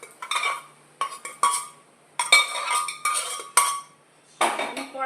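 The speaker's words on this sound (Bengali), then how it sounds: "তো আমি কড়াতে ঢেলে দিচ্ছি একবার" Curry being poured from a pot into a kadai (wok): a series of metallic clinks and scrapes of a utensil against cookware comes in short, uneven bursts, close by, with no talking.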